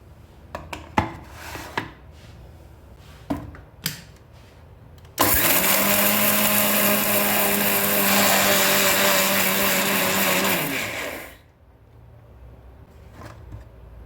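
A kitchen mixer grinds fennel and poppy seeds into a fine paste. A loud, steady motor roar with a whining hum starts abruptly, runs for about six seconds and then winds down. Faint clinks come before and after.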